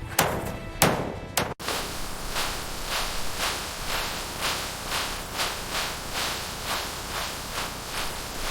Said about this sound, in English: I'll hammer the grill loose.